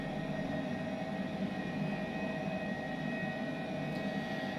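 Airbus H135 helicopter lifting off from a Brisbane helipad in Microsoft Flight Simulator 2020, a steady droning rotor and turbine whine with a high tonal hum, constant and fairly loud with no talk.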